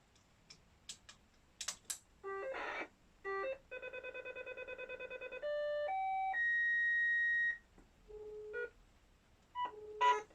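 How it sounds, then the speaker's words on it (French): Electronic tones from a landline telephone: a rapid run of keypad beeps, then sustained buzzing dial tones and a few more short beeps. "Et j'ai une tonalité."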